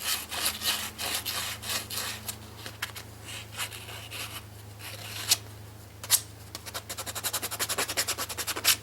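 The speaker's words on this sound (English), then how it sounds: "I have to get a piece of sandpaper there." Sandpaper rubbing a gas injector fitting to clear burrs, a steady close scraping with repeated strokes that quicken toward the end, over a low constant hum.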